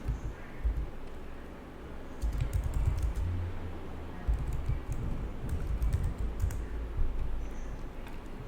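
Steady typing on a computer keyboard entering a command at a Windows command prompt, a close, continuous patter of keystrokes with brief pauses, no voices.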